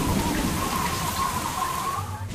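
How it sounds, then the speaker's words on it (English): Heavy rain pouring in a constant dense hiss, with a faint tonal hum running beneath it and a brief dip at the end. "As they approach the airport, the rain isn't letting up."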